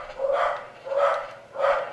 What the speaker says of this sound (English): Corgis are barking.